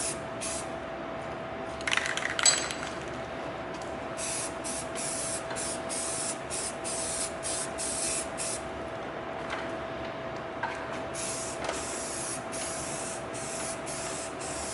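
A spray gun hisses steadily as a forklift is painted yellow, a continuous close spray with a faint tonal hum and a few short clicks and bursts, without speech.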